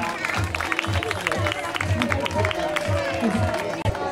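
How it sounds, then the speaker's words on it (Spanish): Applause for children at a pet contest in a department store in Eibar, a crowd clapping steadily under a loud voice and background music, busy and reverberant. "Un fuerte aplauso a los niños."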